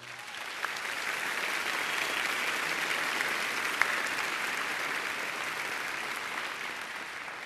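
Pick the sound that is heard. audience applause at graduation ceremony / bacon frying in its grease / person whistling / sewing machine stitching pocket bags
audience applause at graduation ceremony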